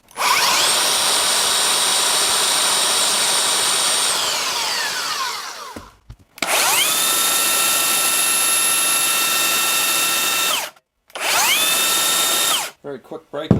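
Makita 40V cordless belt sanders and a Metabo running at top speed, loud high whining motors in three long runs, each winding down and stopping, with short silent gaps between.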